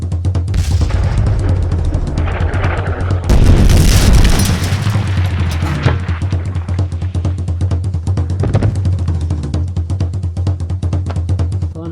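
A loud, heavy cannon blast booms out, followed by a rolling rumble and a second thump, with crackling debris settling afterward.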